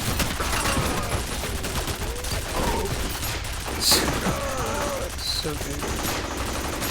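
Sustained turret gunfire in the shooter game F.E.A.R. Perseus Mandate, a dense continuous rattle of rapid shots with a few heavier bursts, running throughout under a voice commenting.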